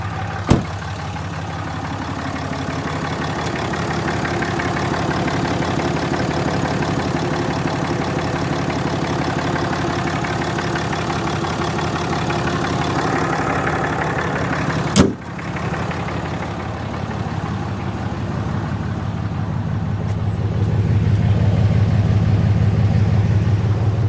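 A 2018 RAM Mega Cab pickup's 6.7L Cummins diesel engine idles steadily and fairly close, a constant low rumble with one sharp click partway through and a slight rise in tone near the end.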